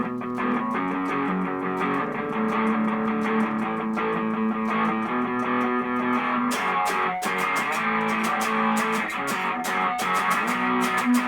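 A distorted electric guitar through an Electro Harmonix Memory Toy analog delay, playing sustained, buzzing chords and lines at a steady, fairly loud level, with denser picked strums toward the end.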